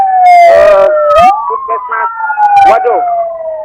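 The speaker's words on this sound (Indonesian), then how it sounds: "Ambulan mulai datang kembali, ini dari Rumah Sakit Sumedang." An ambulance siren from Sumedang hospital wails in repeated rising and falling sweeps, loud and near, while a voice speaks over it.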